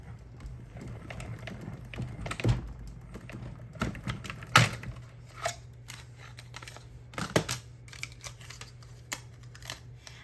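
A tabletop die-cutting machine feeding a second cutting plate with dies through its rollers, giving soft mechanical clunks and grinding bursts with a steady low hum, plus a few sharp clicks along the way.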